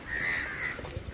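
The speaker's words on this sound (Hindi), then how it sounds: "भाई इतने कौए हैं यहाँ, इतने कौए, कौओं के खेत बना रखे हैं ऐसा लग रहा है" Crows cawing near a shoreline in Diu, India, with one drawn-out harsh caw followed by a few shorter, fainter calls and low thumps, no talk.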